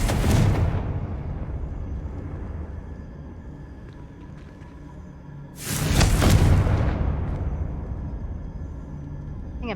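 Two booming blasts of the Confringo explosive spell in Hogwarts Legacy, each a loud sudden burst that fades into a long rumbling tail, separated by a quieter stretch of low ambience.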